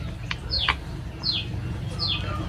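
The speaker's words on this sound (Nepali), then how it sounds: "कस्तो मजाले हाम्रो घरमा चाहिँ कस्तो मजाले चराचुरुङ्गीहरू कराएको सुनिन्छ क्या।" Birds chirp around a house: three bright, descending chirps spaced about a second apart over a low, steady background hum.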